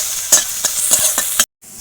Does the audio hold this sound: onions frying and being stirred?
yes